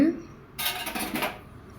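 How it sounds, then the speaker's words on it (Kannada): A short burst of hissing as steam escapes when a pressure cooker lid is opened, set against quiet metallic kitchen clatter, then fading back down. "ಕುಕ್ಕರ್ ಲಿಡ್ ಓಪನ್ ಮಾಡೋಣ"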